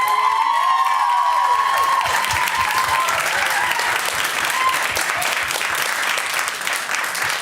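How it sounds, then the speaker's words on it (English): An audience applauds two candidates at a question-time debate night, with loud, dense clapping and some cheering and whoops that fade slightly toward the end. "let's give our two candidates a big round of applause"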